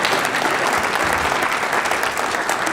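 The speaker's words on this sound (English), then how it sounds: "So a round of applause for everyone else so they can get the attention off me for just a minute." A round of applause fills a high school Hall of Fame banquet hall, steady dense clapping from a sizeable crowd lasting a few seconds with no talk over it.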